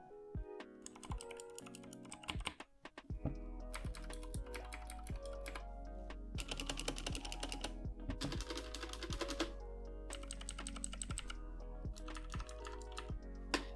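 Rapid typing on HyperX and Cherry MX Blue mechanical keyboard switches: a steady clatter of close, crisp key clicks in quick runs, with short pauses and heavier thuds from the space bar.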